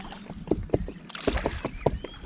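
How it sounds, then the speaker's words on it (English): Choppy water slaps against the bow of a kayak in strong wind on a river stretch between locks, a series of close, irregular splashes and thuds over a steady rush of water and wind. "Can you hear the chop on the front of the kayak?"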